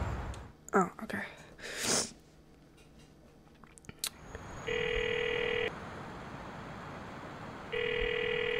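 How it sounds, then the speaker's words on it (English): A phone rings in Grand Theft Auto IV with two electronic rings, each about a second long and separated by a short gap. They follow a quieter stretch of scattered game noises and vocal sounds. "Answer the phone."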